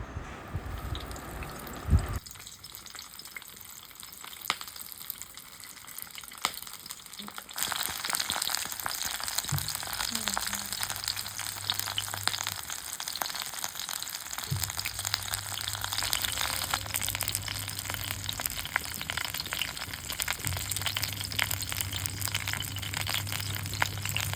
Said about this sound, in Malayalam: ഇനി നമുക്ക് ഒരു ചട്ടി വെച്ച് അതിലോട്ട് കുറച്ച് വെളിച്ചെണ്ണ വെച്ച് ഇത് പൊരിച്ചെടുക്കാൻ നോക്കാം